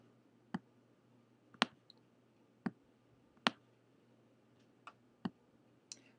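Sharp, quiet computer mouse clicks on a Macintosh as buttons are dragged with the shift key held, about eight isolated clicks spaced irregularly over a faint steady background hum.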